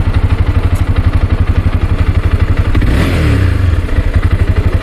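A loud, close Honda CBR250R motorcycle engine with stock exhaust idling with a steady rapid pulse, briefly revving up and settling back.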